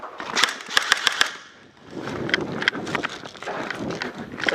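Sharp airsoft guns fire in bursts of rapid clicking shots at an outdoor free-for-all game, with a short lull before more scattered pops, close and fairly loud.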